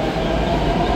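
A metro train at a metro station, a steady loud rumble of the train running close by, continuous for the whole moment with no voices.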